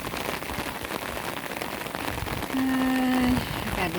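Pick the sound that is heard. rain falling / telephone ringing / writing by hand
rain falling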